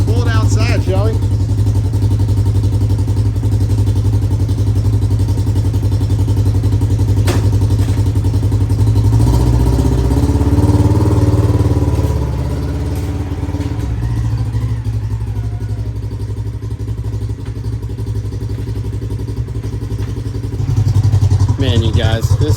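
A Polaris RZR XP1000 fitted with a GGB exhaust idles with a deep, mellow rumble, swelling briefly around the middle before settling back; someone talks over it at times.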